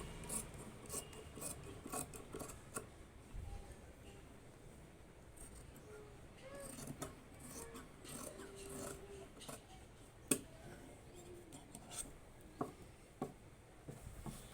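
Scissors cutting fabric along marked lines for a girl's umbrella frock school-uniform collar: quiet, close scraping and snipping with soft rubbing and occasional sharp clicks, no talk.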